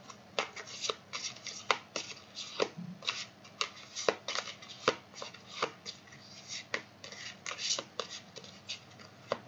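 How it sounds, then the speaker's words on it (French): Oracle cards are shuffled and drawn from a deck in a steady run of soft riffling slaps and rubbing swishes, close and fairly quiet, repeating rhythmically without a pause. "Je vais vous sortir une carte de cœur et âme."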